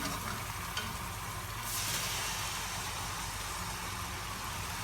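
Tomatoes tipped into a hot pan of meat for Saudi kabsa with lamb leg, a dense, steady hissing sizzle that swells briefly as they land, close and alone without talk.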